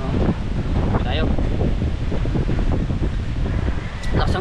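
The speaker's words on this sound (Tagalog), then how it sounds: "Lakas ang hangin." Strong, gusty wind buffets the microphone on a beach at a river mouth after a typhoon, a loud, continuous roar throughout.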